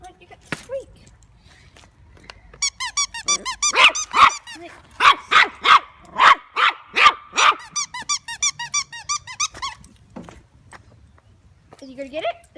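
A dog plays with a squeaky toy, rapid high squeaks in bursts mixed with a run of close, loud barks in the middle, and a brief voice near the end.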